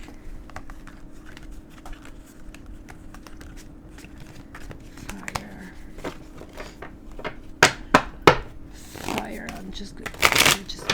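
Tarot cards being shuffled in several quick riffling bursts near the end, preceded by softer card handling under a faint background hum; a person's voice is present.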